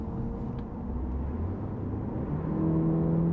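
Steady engine and road hum from a Peugeot 508 driving smoothly during a test drive, a continuous low whir with a slight rise in pitch toward the end and no talk.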